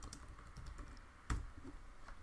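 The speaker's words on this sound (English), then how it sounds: "you can just type in whatever you'd like" Light, scattered keystrokes on a computer keyboard, quiet and close, with one sharper louder key press near the middle.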